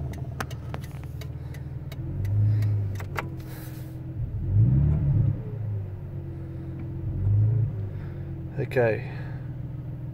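A car engine idling, a low steady rumble beneath occasional talk, with a cooling fan just switched off; the drone swells slightly a few times.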